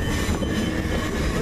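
A train pulls into Waterloo East station with a loud, close, continuous rumble of wheels and carriages and no speech over it.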